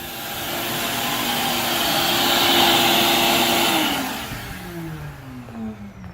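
A shop vacuum runs in a garage with a steady, loud whine that swells and then winds down as it is switched off, leaving a fading, descending hum.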